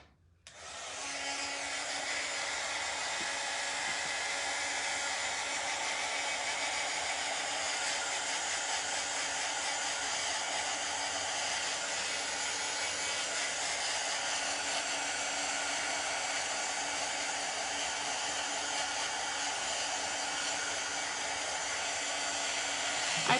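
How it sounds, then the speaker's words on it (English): A hair dryer blows steadily and at moderate loudness for over twenty seconds, drying a Mod Podge pumpkin craft with a continuous rushing hum. "I'm gonna dry this because I'm actually gonna put a bow on it"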